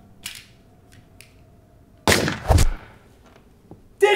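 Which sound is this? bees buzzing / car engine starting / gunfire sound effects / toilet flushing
gunfire sound effects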